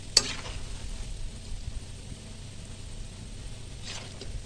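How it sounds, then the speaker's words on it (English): Steady, soft sizzling of chin chin dough frying in oil, with a faint clink near the start and another light scrape toward the end. "So we keep frying"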